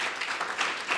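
Audience applause at a university public health division launch, a steady dense wash of clapping throughout the short moment with no break.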